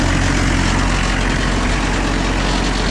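A diesel engine idles after being refuelled with green diesel, producing a loud, steady, close rumble that holds unbroken from start to finish.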